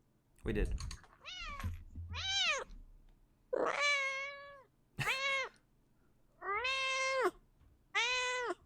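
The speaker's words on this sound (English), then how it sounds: "Sorry, I don't know if you heard my cat." An orange house cat meows loudly and repeatedly at close range, about six drawn-out vocal calls in an uneven rhythm, with a brief spoken phrase and some keyboard typing near the start.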